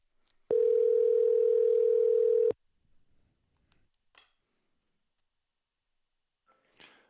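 Telephone dial tone while placing a call, a single steady loud tone lasting about two seconds, followed by near silence with a few faint clicks and a brief noise near the end.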